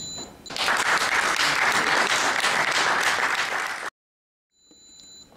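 An audience bursts into dense, steady applause at a poetry gathering, loud and sustained for several seconds before cutting off abruptly, followed by near silence and faint room sound.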